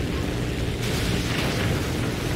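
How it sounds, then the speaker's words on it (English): In War Thunder, 10 kilogram bombs dropped from an HE 51 B-2 hydroplane go off as a dense, rumbling burst of explosive noise that holds steady and loud with a slight surge midway, with no voices. "Just dropping our 10 kilogram bombs"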